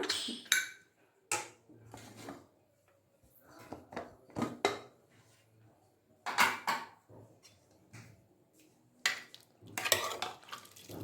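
Cooked tomato and onion with rice and vegetables mashed in a pressure-cooker pot for avarekai bisi bele bath, heard as close, irregular thuds, scrapes and clanks of a ladle against the pot with quiet gaps between.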